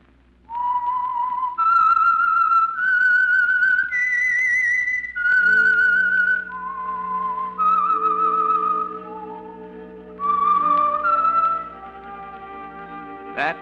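A clear, solo whistled melody, the theme of the radio program The Whistler, slow and eerie, rising and falling in sustained notes over soft orchestral backing.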